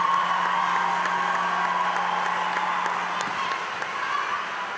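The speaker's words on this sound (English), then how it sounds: "Round of applause." Audience applause with scattered cheers at an entertainment business talk, a steady dense wash of clapping and crowd noise throughout.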